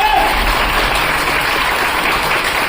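An audience at a business seminar breaks into dense, steady applause for a guest. The clapping is continuous and fairly close.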